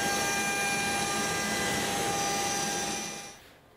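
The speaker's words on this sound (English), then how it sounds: "now when the 1/8 inch ball nose comes by, it can create the detail that we're looking for in the final piece" A CNC router fitted with a 1/8 inch ball nose bit carves wood in a steady, loud tonal whine that drops away at the end as the spindle stops, with no talk.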